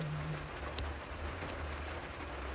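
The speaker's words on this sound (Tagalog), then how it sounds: "Yan po umuulan." Steady light rain falls outdoors on a cold day in Japan, a soft, even patter that holds quietly throughout with no voices over it.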